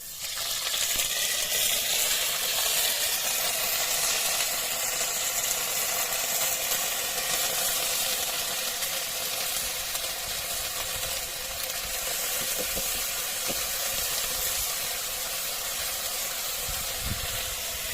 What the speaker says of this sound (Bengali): এখন আলু কষাই করব